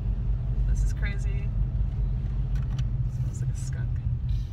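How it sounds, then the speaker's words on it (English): The inside of a car driving through heavy traffic, a steady low engine and road rumble throughout, with faint voices and occasional brief sounds above it. "And then there's Dad driving. There's a lot of traffic."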